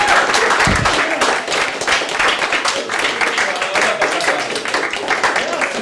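A comedy club audience applauds continuously with dense, even clapping that fills the whole stretch, plus a brief low thump near the start, with no one talking.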